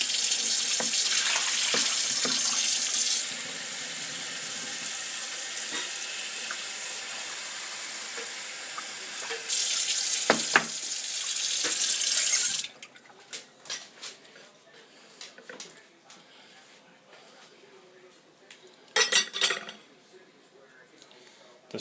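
Tap water runs hard into a kitchen sink during home peach canning, a loud steady hiss for about twelve seconds before it cuts off, followed by quieter clinks and a brief second splash.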